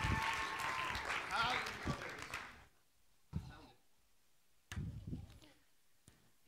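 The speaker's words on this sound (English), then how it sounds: "let's give Brother Buford a big round of applause" A church congregation at a Sunday morning praise service applauds in a dense burst of clapping that fades after a few seconds, followed by scattered short claps and a voice speaking.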